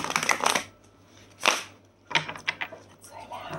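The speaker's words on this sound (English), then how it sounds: "I love a good ripple shuffle" Several quick riffling card shuffles in bursts, close and fairly loud, with short pauses between them.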